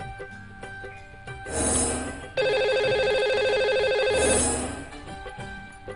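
A telephone rings twice with a bright electronic ringtone, loud and clear, as a caller is put through on a live Hindi astrology call-in show, with no voices over the ring.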